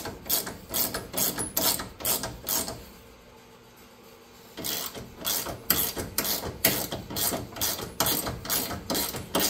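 A ratchet tightening a bolt on a homemade radiator mount for an LS-swapped Suburban, quick clicking strokes close up, with a short pause midway before the clicking resumes.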